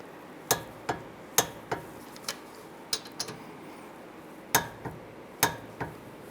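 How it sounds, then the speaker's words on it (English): A torque wrench tightens the rear brake caliper bracket bolts on a 2012–2017 Toyota Camry, giving a series of sharp metallic clicks in small irregular bursts, close and clear over a quiet background, with no talk. "Now we're going to torque the bracket bolts to 58 foot-pounds."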